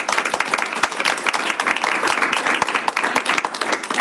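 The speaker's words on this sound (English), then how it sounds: "So round of applause" Audience applause at a school board of education meeting, dense steady clapping from a room full of people, loud and sustained throughout with no talk over it.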